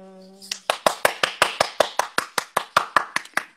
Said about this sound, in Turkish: Tek kişilik çok alkış yapıyorum sana.